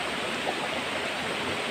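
A river flows steadily near a big boulder marker, a dense continuous rush of water heard alone at moderate level without any talk.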